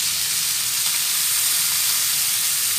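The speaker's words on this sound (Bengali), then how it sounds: "তেলে ভেজে চিংড়ি আজকে রান্না করব।" Shrimp fry in hot oil in a wok with a loud, dense, continuous sizzle and hiss, close up and unbroken throughout.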